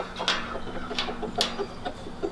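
Chickens in a makeshift backyard pen clucking in short, repeated bursts at close range, several soft calls spaced through a low, steady background hum.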